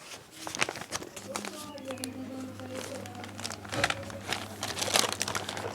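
Someone handles a textbook, its paper rustling and crinkling as pages turn, in repeated crisp bursts close by while someone talks over them.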